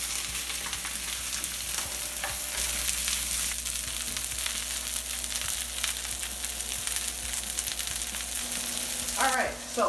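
Brussels sprouts sauté in hot bacon fat in a pan, giving a steady, close sizzle while a utensil stirs and scrapes through them, ending in a brief burst of louder clatter.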